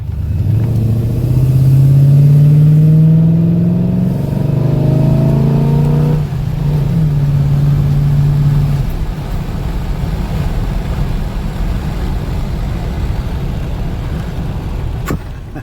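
A 1984 Pontiac Grand Prix accelerates hard along a neighborhood street, its engine revving up in a rising whine, dropping as it shifts gear, then settling into a loud steady road drone.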